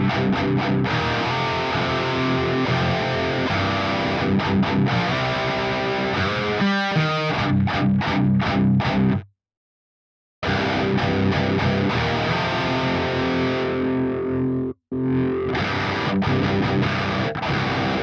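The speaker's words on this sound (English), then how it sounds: "it gets really nasally and sounds more like a raw tube screamer" Loud, continuous distorted electric guitar chords through a Boss DS-1 pedal with a nasal, raw tube-screamer-like tone ring out, broken by a brief dead stop of total silence and a short cut before resuming.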